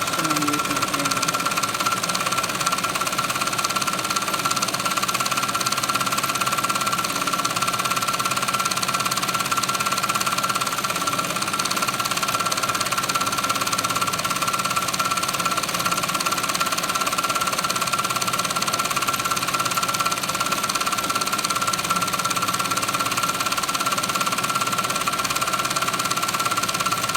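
A Brother 9-needle embroidery machine stitches continuously, a loud steady mechanical chatter with a constant high whine and rapid needle knocking, unbroken and with no voices.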